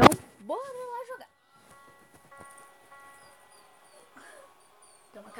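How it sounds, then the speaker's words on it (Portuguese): A dog whines in the Granny video game, a rising and falling plaintive cry near the start, followed by faint scattered game noises and quiet stretches. "Tem uma cachorro chorando ali."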